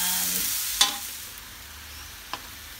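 Leek, ginger, onion and garlic frying in a pan, a soft steady sizzle with two brief clinks of a utensil stirring, close and quiet, no voices.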